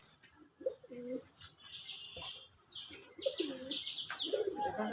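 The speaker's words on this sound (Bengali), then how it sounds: "এই দেখেন কবুতর, কতগুলো কবুতর দেখেন।" Soft, repeated cooing from a loft full of pigeons of several breeds housed in three tiers, the calls rising and falling close by, with faint chirps and rustling between them.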